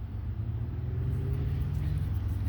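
Roadside traffic at a 1790s farm property, with a steady low rumble of passing cars and one vehicle droning by close and loud, continuous throughout with no talk.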